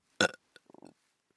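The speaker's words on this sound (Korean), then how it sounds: "트림을 했습니다" A single loud burp from a child after drinking a glass of milk on a full stomach, followed by a few small gulping sounds, alone in an otherwise quiet setting.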